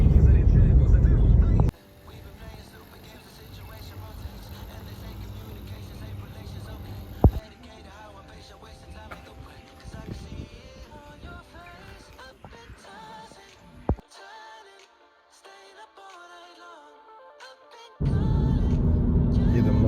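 A 2019 Volkswagen Tiguan, repaired after a crash, drives along with a steady low road and engine hum and a muffled cabin drone, interrupted by a few clicks and a short quiet gap.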